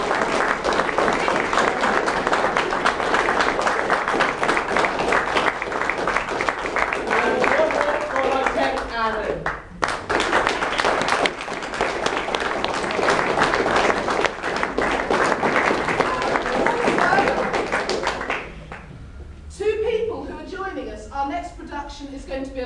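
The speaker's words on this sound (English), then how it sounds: "Can we give a round of applause to Laura" A theatre audience at a Brixham matinee show claps in sustained, loud applause that fills most of the stretch, dips briefly midway, then fades out as a voice speaks near the end.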